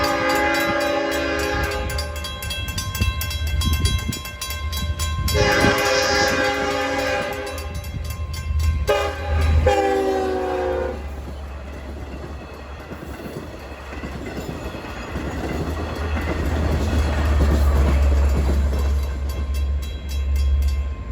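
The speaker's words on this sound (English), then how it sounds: "Double-ended diesels." A double-ended diesel commuter train on the Long Island line passes at a station, sounding its horn in several long blasts early on, followed by a rolling clatter of wheels that swells and fades.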